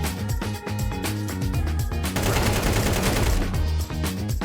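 Counter-Strike 2 match with rapid gunfire bursts and sharp shots over loud, dense background music, no voices.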